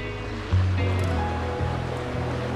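Water rushes and splashes down a stream gully in Scotland, a steady close-up wash of flowing water that surges a little louder after the first half second.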